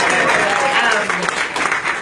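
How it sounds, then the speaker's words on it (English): A crowd applauding steadily at Chelsea Clinton's campaign speech for her mother at Charley's in Long Branch, New Jersey, dense clapping that stays loud throughout with a few voices mixed in. "please give them a round of applause."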